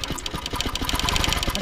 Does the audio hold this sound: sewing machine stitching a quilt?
yes